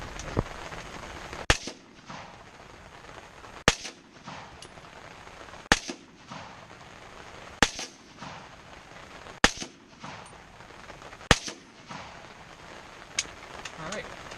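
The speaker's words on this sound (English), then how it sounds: "So we're going to shoot some of these out of it, and we'll see how it does against the pumpkin." Rifle shots fired one at a time at a pumpkin, five sharp loud cracks spaced about two seconds apart, with quieter clicks and handling noise between them.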